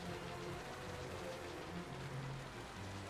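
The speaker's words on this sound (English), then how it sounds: "since it's raining" Steady rain in the Final Fantasy XII video game, a soft, even hiss of falling water that continues without a break through the whole stretch, with no voices over it.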